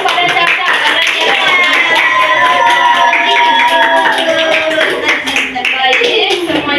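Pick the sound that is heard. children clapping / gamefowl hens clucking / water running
children clapping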